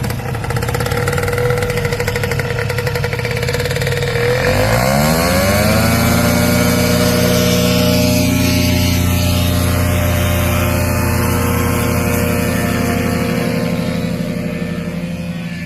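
A loud small paramotor engine roars up in pitch after a few seconds, then holds a steady, buzzing high rev throughout.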